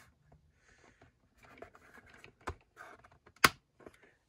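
A small plastic tab on an Attak Trak toy part snaps into place, with two sharp, close clicks over quiet handling and rustling noises.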